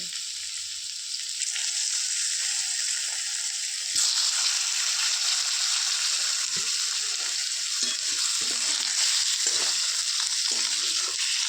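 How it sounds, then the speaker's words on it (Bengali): Boiled potatoes fry in oil left over from frying rui fish, producing a close, continuous sizzle that swells louder and brighter after a few seconds as more goes into the pan, with no one speaking. "যে তেলটা ছিল ওই তেলের মধ্যে আমি সিদ্ধ করে যে আলুগুলো রেখেছিলাম সেই আলুগুলো একটুখানি ভেজে নেব"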